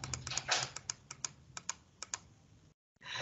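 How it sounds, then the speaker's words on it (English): Keys on a graphing calculator running a newer operating system are pressed in a quick series of sharp, close clicks with short pauses between them, followed by a brief silence and then a faint hiss. "That's typing with the newer operating system"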